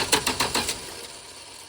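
The engine of a worn 1978 Plymouth Volare, with a suspected intake valve fault, chuffs in five or six quick uneven puffs back through the carburetor close by, then fades into a low idle.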